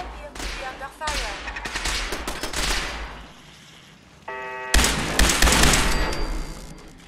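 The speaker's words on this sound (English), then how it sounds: "We appear to be under fire" Gunfire erupts in Fallout 4 at the Boston Public Library, with loud bursts and rapid volleys of shots that keep coming and grow heavier near the end, alongside a brief electronic tone and a robotic voice speaking.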